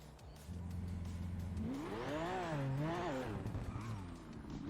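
A car engine in a GTA roleplay video game, idling at first and then revving up with rising and falling pitch as it accelerates, moderately loud and fairly close.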